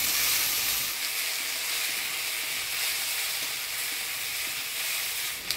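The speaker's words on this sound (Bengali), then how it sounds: "এবার সিদ্ধ করে রাখা কচুরলতি দিয়ে দেব।" Boiled taro stolons hitting hot oil seasoned with nigella seeds and chopped onion, giving a loud, steady sizzle and hiss that holds throughout with no voices.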